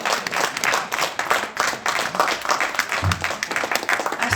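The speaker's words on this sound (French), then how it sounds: "Est-ce que vous pouvez applaudir pour les Sevranais?" An audience at a European election campaign event in Sevran breaks into dense, sustained clapping, a loud close crowd applause lasting several seconds with a few faint voices mixed in.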